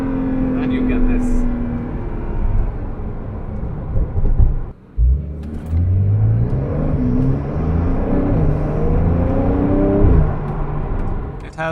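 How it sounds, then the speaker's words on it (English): Porsche 911 with its sport exhaust open, revving with a deep rumbling drone that rises and falls, dipping briefly midway before building again, close and loud under a man's speech. "the sport exhaust opens up,"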